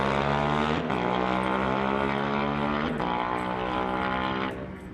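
A 2021 KTM 890 Duke motorcycle revs hard at a street-legal drag race start line and lifts into a wheelie, its engine a loud sustained harmonic drone with a few sharp throttle surges, then easing off at the end.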